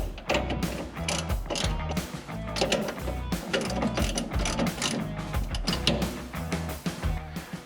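A hand ratchet tightens the front shock bolts on a 1966 Mustang, giving rapid, repeated clicking strokes of the pawl in bursts close to the listener, with no talking.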